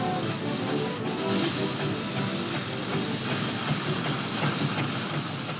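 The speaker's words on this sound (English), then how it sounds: "There's steam everywhere you turn," Steam engines at the Great Dorset Steam Fair, a loud continuous broadband hiss of venting steam with a busy mechanical rumble underneath, steady throughout.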